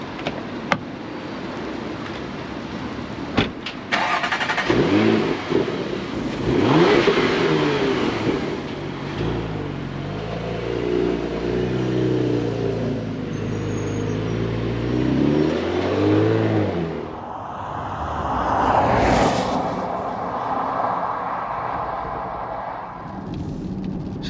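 A Porsche Macan S with a 3-litre twin-turbo engine drives off, starting with a few clunks, then a sustained growl that rises and falls through acceleration, with a surge of revs near the end, loud and close.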